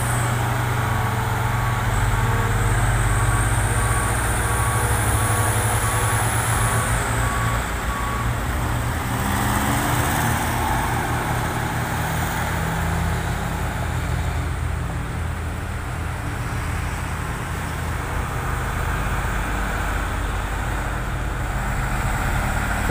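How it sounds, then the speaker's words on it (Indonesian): A heavy truck labours up the extreme incline at Bukit Kodok, its engine droning loud and unbroken for the whole stretch with a high whine fading early on and no talk. "Itu ada truk yang lagi nanjak."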